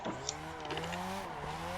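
A modified Mazda RX7 has its engine revving hard through a clutch kick at the top of a hill. There is a brief surge of strained engine tone with faint tire noise, heard at low level for under two seconds.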